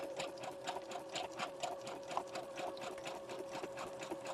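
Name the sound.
sewing machine back stitching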